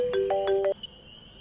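A phone ringtone plays a short melodic electronic phrase of repeated tones, then cuts off abruptly, followed by a brief blip and quiet room tone.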